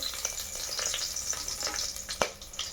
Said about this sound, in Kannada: ಒಂದು ಇಂಚಿನಷ್ಟು ಚಕ್ಕೆನ ಹಾಕ್ಕೊಳ್ಳಿ ಫ್ರೆಂಡ್ಸ್ ಹುಷಾರಾಗಿ ಸಿಡಿಯುತ್ತೆ